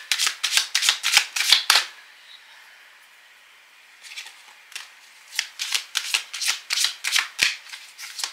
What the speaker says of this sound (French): on va faire les lectures, l'association de toutes les cartes